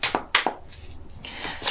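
A Marigold tarot card deck is shuffled close up, with a few sharp riffling snaps followed by softer, continuous sliding and flicking of cards.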